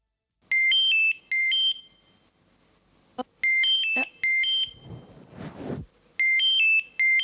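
A repeating electronic phone ringtone, loud and close, rings in bursts of rapid trilling tones with a pause and a short rustling noise between rings.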